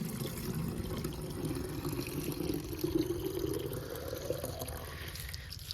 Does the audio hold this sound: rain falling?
no